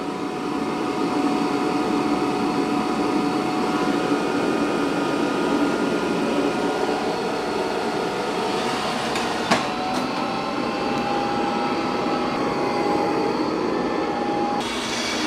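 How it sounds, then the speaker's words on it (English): A Eufy Omni C20 robot vacuum runs over carpet with its mop pads lifted, giving a loud, steady close-up motor whir that holds throughout, with a faint whistling tone rising near the end. "now it's vacuuming that carpet for the second time"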